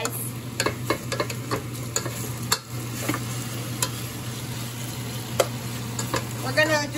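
Beef pieces cooking in a pan for beef and broccoli, a steady close sizzle with scattered clicks and light scrapes, a low constant hum underneath, no talk.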